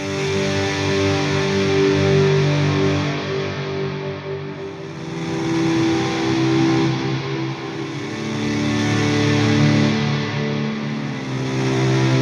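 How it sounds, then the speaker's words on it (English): An electric guitar chord swell run through delays, reverb and aggressive distortion rises and falls in loud, dense waves, three slow volume surges washing together with long echoing tails and no voices. "when we combine the delays and the reverb and the aggressive distortion and we use the chord swell"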